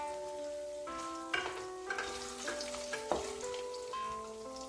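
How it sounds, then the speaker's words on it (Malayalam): Thin coconut slices roast in a pan for an aval (flattened rice) mixture, giving a soft sizzle with a few light stirring clinks beneath a steady tonal hum, fairly quiet and without speech. "ഇനി നമുക്കിതിലേക്ക് ആ തേങ്ങ കനം കുറഞ്ഞരിഞ്ഞതോടി വറുത്തെടുക്കണം"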